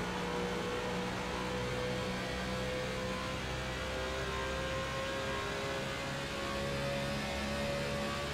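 A NASCAR Car of Tomorrow race car engine in iRacing, its legacy 2009 sound files giving a loud, constant high-revving drone with a steady whine that holds at full power throughout.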